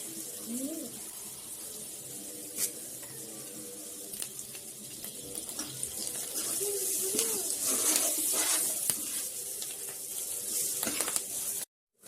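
Curry leaves crackle and sizzle in hot oil for a star fruit pickle, a steady bright hiss over about twelve seconds with faint tonal chirps in the background, ending abruptly.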